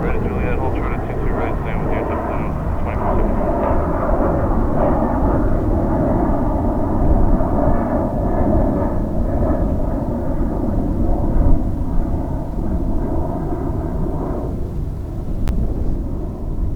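A plane at JFK airport roars steadily and loudly throughout, a broad sustained engine rumble that swells slightly mid-way, with faint radio chatter beneath.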